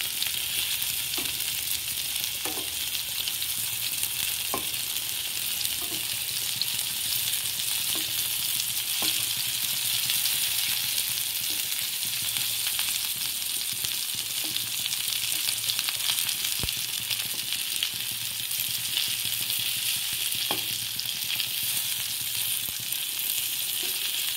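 Stuffed masala bitter gourd frying in a pan, a loud steady sizzle and crackle that lasts throughout with faint occasional taps underneath.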